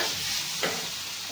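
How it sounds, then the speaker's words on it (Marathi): Tomatoes roast in a hot pan for a dhaba-style egg curry, a steady close sizzle with one brief stirring scrape partway through. "टोमॅटो सुद्धा हलवून पॅनवर जाळ येईपर्यंत मस्त चांगला भाजून घेतलेला आहे"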